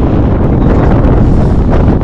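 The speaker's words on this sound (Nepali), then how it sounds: "यस्तो हावा लगाइरहेछ कि मेरो आवाज पनि त्यो सुन्न सकेको छैन क्या" Strong gusts buffet the microphone at Beni Bazaar on the way to Mustang, a loud, continuous low rumble of cold wind that fills the whole moment with no other sound.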